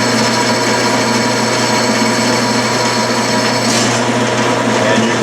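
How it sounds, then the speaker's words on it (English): A metal lathe spins off-center brass stock held on steel in a 3-jaw chuck, a loud, continuous motor hum with steady mechanical whir and no pauses. "do not run your lathe too terribly fast, because this is out of balance"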